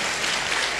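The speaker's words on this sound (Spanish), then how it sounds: "Con un fuerte aplauso al hermano" A church congregation gives a brother a strong round of applause, a brief, dense and loud burst of many hands clapping together.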